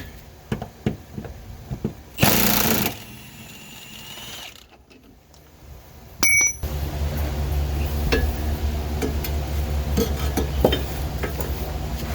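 A ratchet wrench tightens bolts on a Subaru Outback rear subframe during a replacement. Sharp metallic clinks and tool handling come first, then a steady stream of close, rapid ratcheting clicks.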